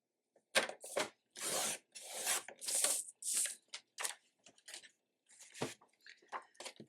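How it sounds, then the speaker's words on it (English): Paper being trimmed to size for a fall sticky-note pad cover craft project, heard as a run of close, crisp slicing and rustling strokes in irregular bursts, with short pauses between cuts and no talking. "So let me trim this."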